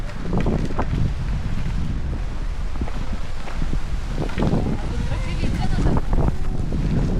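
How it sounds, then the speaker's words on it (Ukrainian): Steady gusting wind roars across the microphone, with voices talking intermittently over the blustery noise outdoors. "Ну, якийсь зірвався вітер прям."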